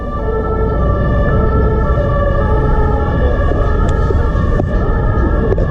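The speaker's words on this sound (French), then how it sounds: "Toujours trop de bruit, même quand on est dans un parc. Sacrée sirène." An emergency vehicle siren passes near a park, a loud, steady wailing tone over constant traffic noise, alone without speech.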